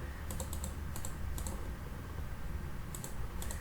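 Quick bursts of computer keyboard keystrokes as commands are typed into CAD software, clustered clicks in short groups separated by pauses, close and fairly quiet.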